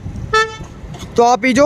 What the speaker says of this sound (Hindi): हॉर्न की आवाज़ें सुन पा रहे होंगे